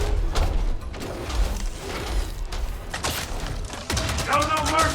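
Bursts of gunfire and mechanical clatter from a combat video game, loud and busy with rapid volleys and thuds, while a player talks over the action.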